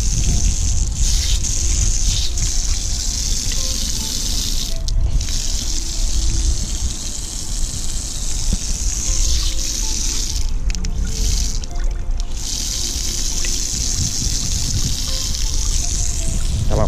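Cold water gushing hard from a tap at a cemetery, a loud continuous splashing stream close by with a few brief dips in flow, and no one talking.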